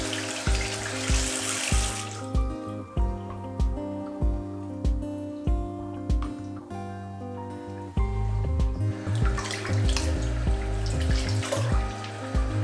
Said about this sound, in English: what I like to do now is rinse it with really cold water.